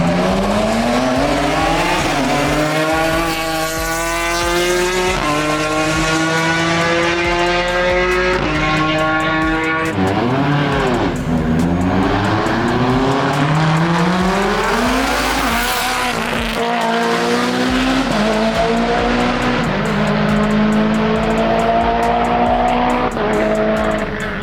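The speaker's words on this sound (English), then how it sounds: "It's been pretty dope to see these cars launch and hit the first turn." Race cars, including a BMW, launch from the Pikes Peak hill climb start line. Loud, close engines howl and rise in pitch through repeated gear changes, with tire squeal and passing engine sounds running continuously.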